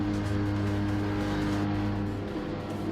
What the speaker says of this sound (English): It's quite weird to hear a different car.